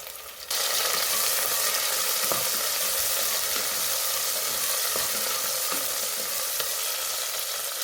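Roasted peas frying in a pan with curry leaves for palak rice, a steady close sizzle running the whole time after a quiet start, with faint scrapes and stirring clicks and no talk.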